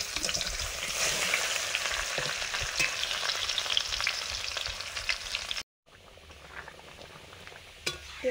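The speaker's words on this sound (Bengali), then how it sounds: "ওলগুলো সেদ্ধ হয়ে গেছে, সর্ষে তেল দিয়ে ভেজে নিচ্ছি।" Boiled elephant foot yam fries in mustard oil with a dense, crackling sizzle and occasional pops. It cuts out briefly, then resumes more quietly, and no one speaks.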